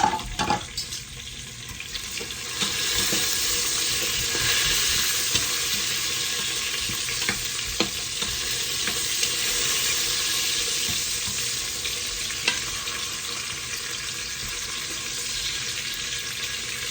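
Dried red chillies and garlic fry in oil for a spinach and dal dish, giving a loud, steady, close sizzle that crackles continuously throughout with no talking.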